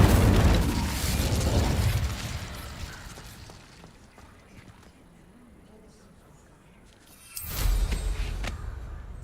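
A burst of fiery whooshing and crackle from an Incendio spell in Hogwarts Legacy, loud at first then fading into a low rumble, with a second sharp blast near the end; a voice speaks briefly.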